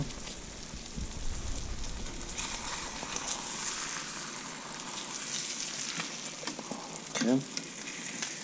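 Pieces of fish frying in butter in a crowded pan: a steady, soft sizzle with a spatula scrape and flip clatter near the end, and a brief spoken word.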